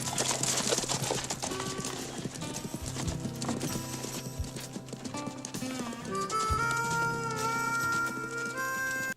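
Horses saddled up and ridden off in the 1990 movie Tremors: busy clip-clop hoofbeats and a whinny under a full, loud film soundtrack of music and effects, with no break throughout.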